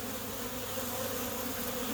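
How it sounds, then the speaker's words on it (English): A crowd of honey bees buzzes steadily at a busy hive entrance in Portland, Oregon, during spring, a close, even drone that holds without pause and without any talk. "So there's a ton of activity here at the hive."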